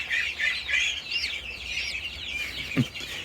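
A small feather-legged bantam chicken clucks in soft, repeated bursts close by, with a brief lower squawk near the end and no talking.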